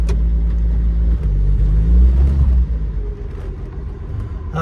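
A 1946 Chevrolet Fleetmaster engine runs close by with the car put in gear, a deep, loud rumble that swells briefly as it revs and then settles to a lower idle.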